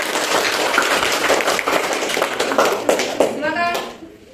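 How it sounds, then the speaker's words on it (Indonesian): A classroom audience gives a brief burst of clapping after a group presentation, dense and fairly close, with a few young voices mixed in before it tapers off near the end. "jika tidak ada berikan tepuk tangan"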